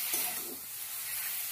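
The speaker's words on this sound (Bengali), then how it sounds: "ভালো করে নাড়িয়ে দেবো, নাড়িয়ে দিয়ে কষিয়ে নিতে হবে মশলাটাকে দিয়ে সবজির সঙ্গে" Spice paste frying with potato and eggplant in a pan for a tangra fish curry, a constant close hiss of sizzling oil with a brief burst of stirring at the start.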